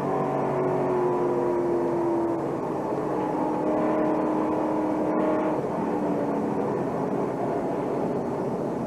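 Onboard sound from a NASCAR Busch Series stock car caught in a multi-car crash at Daytona or Talladega: a loud, continuous engine roar with shifting pitch and a sudden brief break near the middle.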